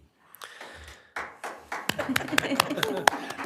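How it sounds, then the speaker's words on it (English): Scattered clapping at a city council meeting, starting with a few hands and building into sharper, more frequent claps from a small group in the room. "Somebody's got to get the applause started."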